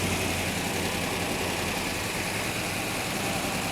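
Steady mechanical engine noise with a continuous rattling from the rockers, an idling hum, loud and close, with no voices.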